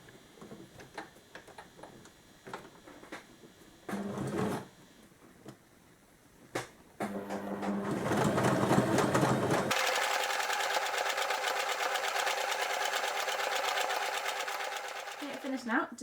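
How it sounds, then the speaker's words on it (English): A sewing machine with a double needle stitches a skirt hem: a few scattered clicks and handling noises, then a long, steady, close mechanical whirr of rapid needle strokes that stops near the end. "I'm now going to sew the hem using the double needle again"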